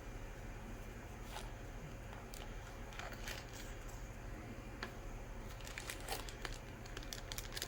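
Plastic packaging of a Taifun GX RDTA vape atomizer crinkles and crackles up close in scattered bursts over a low steady background hum, growing busier toward the end.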